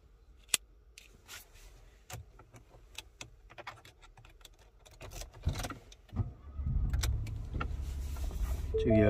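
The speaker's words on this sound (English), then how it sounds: "Let's start the vehicle up." A Ford EcoSport 1.0 EcoBoost Zetec automatic is started with a flip key: scattered key and cabin clicks, then the engine cranks and settles into a low, steady idle that builds toward the end.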